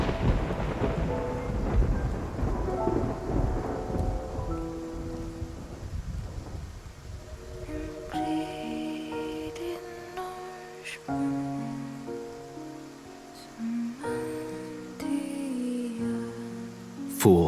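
Video game sea storm: heavy rain and rolling thunder roar loudly at first, then give way to sparse tonal music with a few sharp cracks of thunder breaking through, no talk.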